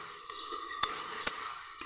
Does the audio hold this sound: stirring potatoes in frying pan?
yes